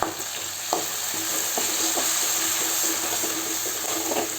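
Tomatoes sautéing in a pan of chilli chicken, a steady sizzle and frying hiss with occasional stirring scrapes, close and continuous with no talk.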